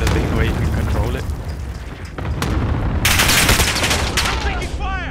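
Gunfire in Modern Warfare rattles through a loud battle mix of rapid shots, booms and explosions, with voices talking over the din and a sharp burst near the end.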